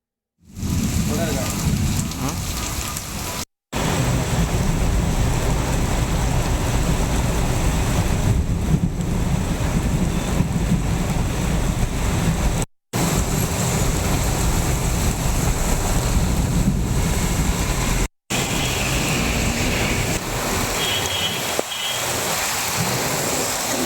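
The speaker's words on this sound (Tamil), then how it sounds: "இடி மின்னலோடு கனமழை பெய்து வருகின்றது" Heavy rain pours down in a thunderstorm over Tirunelveli city areas, a dense, loud continuous hiss with low thunder rumbles beneath, broken by a few abrupt cuts to silence.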